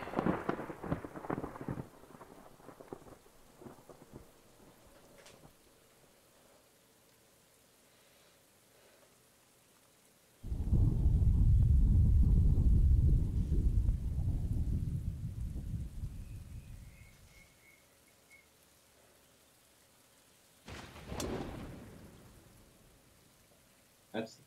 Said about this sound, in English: So you've got the rain.